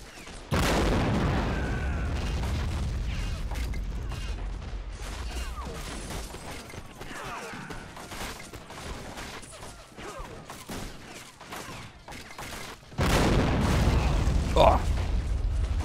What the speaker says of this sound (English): Good hit there from the Swedish artillery.